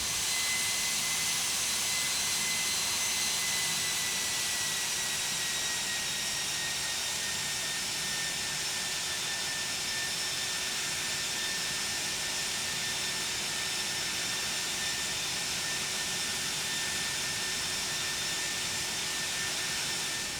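Airliner jet engines idling as the plane taxis to the gate in a flight simulator game, a steady whining drone with high tonal whistles held level throughout, no voices over it.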